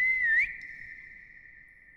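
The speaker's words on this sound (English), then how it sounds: "What happens if I whistle?" A single clear whistled note wavers up and down for about half a second, then a steady tone rings on and slowly fades in a quiet space.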